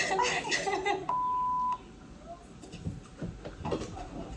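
Kitchen timer starting with a single clear electronic beep lasting under a second, heard between stretches of close indoor talk and soft laughter.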